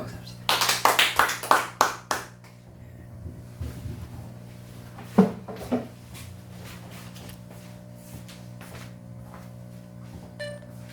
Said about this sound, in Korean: 감사의 박수합시다.